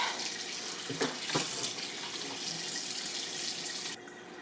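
A kitchen tap runs steadily into a sink while a pork roast is washed, a loud close hiss of flowing water with a few splashes early on, dropping suddenly near the end as the flow changes.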